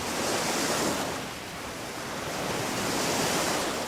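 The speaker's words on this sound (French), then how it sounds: "Les vagues attaquent sans cesse le pied des falaises qui se creusent petit à petit." Sea waves break against the foot of the chalk cliffs on the Alabaster Coast in Normandy, a steady, loud roar of surf that swells, eases briefly, then builds again with no voices.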